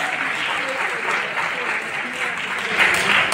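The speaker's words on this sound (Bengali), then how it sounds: "শুভমের জন্য জোরে হাততালি দাও।" Audience clapping at an art college exhibition award distribution, dense sustained applause from a crowd that swells louder toward the end.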